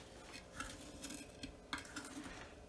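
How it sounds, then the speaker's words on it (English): Eggs for brownies get a quick mix in a bowl, quiet irregular clinks and taps of a utensil against the bowl in short bursts, close and faint, with no talking. "So I'm going to just give my eggs a quick mix"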